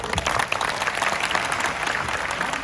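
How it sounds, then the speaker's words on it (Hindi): A crowd claps continuously, a dense and steady round of applause that holds at full strength the whole time, standing to applaud during an address at an institution. "खड़े जाओ, इनके ताली बजाओ जोर से"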